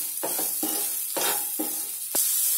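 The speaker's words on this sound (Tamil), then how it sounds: "இப்போ இதில் நம்ம கட் பண்ணி வச்சிருக்கிற கேப்சிகமை சேர்த்துருங்க. சேர்த்திட்டு அதை நல்லா வதக்கி விட்டுருங்க." Chopped capsicum sizzles in a hot pan while a spatula stirs it in several quick, scraping strokes, loud and close with no talking.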